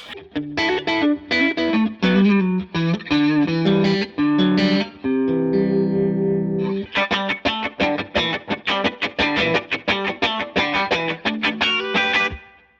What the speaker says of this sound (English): Here's a light overdriven sound.